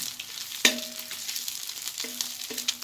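Garlic frying in a modest amount of oil until golden, for stir-fried instant noodles: a close, steady crackling sizzle broken by a few sharp clinks of a utensil on the pan.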